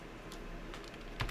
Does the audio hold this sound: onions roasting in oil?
no